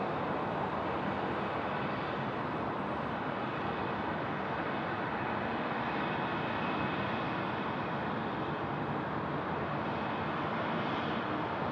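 A jet takes off from runway 16 right at Sydney Airport at night, a steady broad roar from a distance that holds for the whole stretch without voices.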